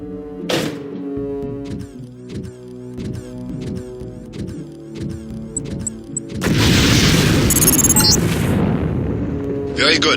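A LAM mine detonates in the PC game Deus Ex training course: a soft thunk early on over steady game music, then a loud, roaring explosion that fills the last few seconds.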